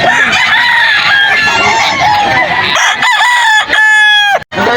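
Roosters crow loudly and chickens cluck up close at a poultry market in Bocaue, Bulacan, with overlapping calls filling the scene and a long crow rising near the end.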